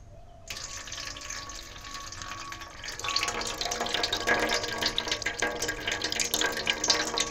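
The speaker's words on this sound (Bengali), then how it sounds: "এবার আমি এই জলটা আস্তে আস্তে ছেঁকে নেব।" Water is slowly strained off soaked raw potatoes being made into starch, first a light trickle and then a fuller steady pour and splash, close and continuous with no talking.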